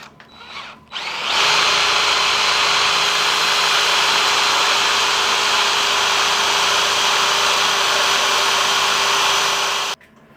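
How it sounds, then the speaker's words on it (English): Power drill boring holes while held square in a jig during a lathe tailstock DRO install, running as one loud continuous whine for about eight seconds before stopping abruptly. "The holes drilled nicely."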